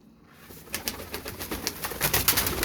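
Pure Kasuri pigeons at a loft in Faisalabad give soft nearby coos and flutter, rising in busyness over a few seconds with no talking.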